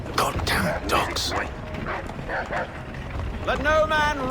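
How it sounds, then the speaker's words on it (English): Dogs bark and yip in an Assassin's Creed 3 battle scene, sharp repeated yelps mixed under shouting soldiers, with a rising whine near the end. "Goddamn dogs."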